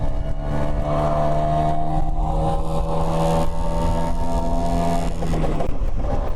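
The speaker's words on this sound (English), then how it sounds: "So this 1966 Vespa. Oh, we've got up 2 gears." A 1966 Piaggio Vespa scooter's small engine buzzes loudly and steadily close by while riding, its pitch rising as it shifts up through the gears and briefly drops near the end.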